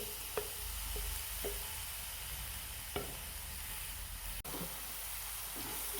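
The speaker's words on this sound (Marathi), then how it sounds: "आलं लसूण हिरवी मिरची पेस्ट परतून घ्यायची" Ginger, garlic and green chili paste sautés in a pan with turmeric and curry leaves, giving a faint, steady sizzle with a few sharp scrapes and taps and no voices.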